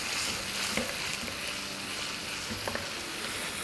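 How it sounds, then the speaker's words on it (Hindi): Mutton pieces sizzling and frying in a pan with yogurt while cooking masala gosht, a continuous close crackle with occasional stirring scrapes. "दही डालने के बाद भी हमने 3-4 मिनट तक बड़े अच्छे से भुनाई कर ली है।"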